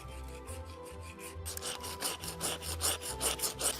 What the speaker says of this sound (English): Now using the flamethrower, we have to scrape a little bit of material into it.